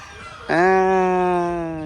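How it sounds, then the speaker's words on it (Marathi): A rooster crows once, loud and close, in a sustained harmonic call that follows a brief quiet lead-in and holds steady until the end. "कोंबडा घ्यायचा का तुला कोंबडा"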